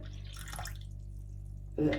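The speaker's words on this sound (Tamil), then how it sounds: "அடுத்தது 1/2 கப் தண்ணி விடுறோம்" Water is poured into a yogurt and semolina idli batter, with a short splashy trickle early on, a quiet pause, then a louder burst of pouring at the end.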